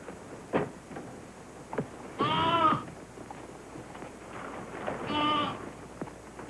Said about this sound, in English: That lamb's too young to know bad company when he sees it.